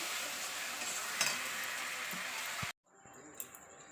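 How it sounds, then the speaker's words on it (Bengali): Ground spice paste frying with browned onions in a home kitchen pan for biryani, a steady loud sizzle with stirring scrapes that suddenly cuts out, followed by a quieter, softer sizzle. "এবার আমি মশলা বেটে রাখা মশলাটা দিয়ে দিলাম।"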